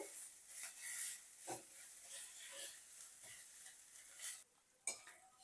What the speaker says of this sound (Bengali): কুচনো পেঁয়াজটা দেওয়ার পর পেঁয়াজটা কিন্তু আমি এখানটায় লাল লাল করে ভেজে নেব।